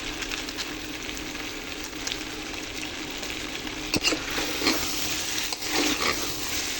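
Potato curry masala frying in a pan, a steady close hiss of sizzling oil with a few louder stirring scrapes toward the end.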